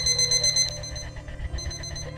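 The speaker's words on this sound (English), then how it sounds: "Alarm clock noise." A ringing alarm clock from the video game Evil Bananas, loud and close, a rapid repeating ring that pulses steadily over a low musical backdrop for about two seconds.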